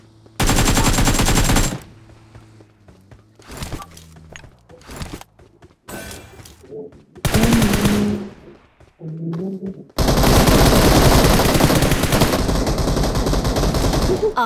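Automatic gunfire in the mobile battle royale game BGMI, several long rapid bursts separated by short gaps and scattered single shots, loud and close, with brief game sounds between the bursts.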